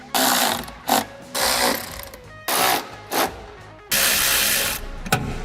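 Ratcheting bursts click and whir in several short runs as bolts are driven in while a headlight is installed on a 2015-2019 Chevy Silverado, close and fairly loud with brief pauses between.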